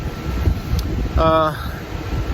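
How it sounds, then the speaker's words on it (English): Steady wind rushes and buffets the microphone outdoors beside a bus RV conversion, a constant broadband roar with a brief tonal voice-like sound in the middle. "Boy, it is getting windy here."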